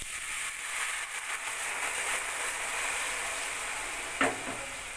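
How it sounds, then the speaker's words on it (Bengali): Steady broadband sizzle of dal hitting hot oil with black nigella seeds in a pan, a continuous hiss close by, with one brief knock of a spoon near the end. "এবার আমি এই ডালটা এর মধ্যে দিয়ে দিচ্ছি।"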